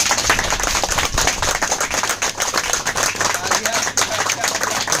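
An audience in an auditorium hall claps loudly and continuously in a dense, close wash of hand claps, with some voices mixed in.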